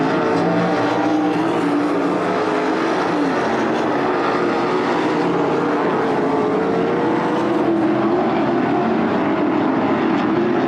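305 sprint cars race in a heat at Attica Raceway Park, a dirt track, with a dense, continuous roar of several engines and wavering pitch as cars pass; no talking.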